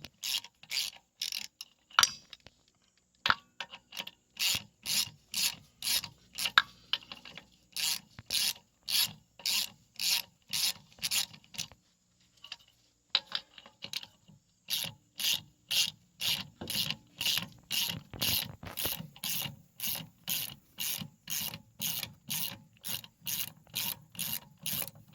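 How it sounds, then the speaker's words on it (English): Rear wheel coming off a 1992 Chrysler New Yorker Fifth Avenue during a wheel bearing and drum job: a long run of rapid, evenly spaced ratcheting clicks, close and loud, pausing briefly a few times, with metallic rubbing and scraping between. "we're going to find out here in just a second whenever Tommy gets this wheel pulled off"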